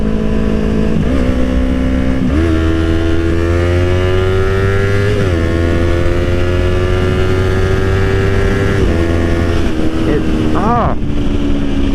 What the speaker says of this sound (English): I hope that it somehow comes across on video, like with the sound of the engine